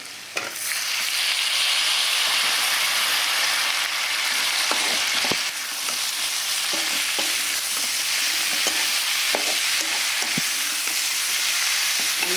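Pirandai (adamant creeper) and tomato sautéing in a pan for a Tamil chutney, a loud, steady sizzle throughout with scattered clicks and scrapes of stirring and no talking.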